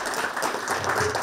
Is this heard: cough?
no